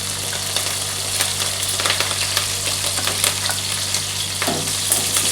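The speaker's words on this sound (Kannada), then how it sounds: "ಹಸಿಮೆಣಸು ಒಗ್ಗರಣೆಗೆ ಹಾಕ್ತೇವೆ" Green chillies with curry leaves and mustard seeds crackle in hot coconut oil tempering, a continuous loud close sizzle with scattered sharp pops and faint stirring, no talk.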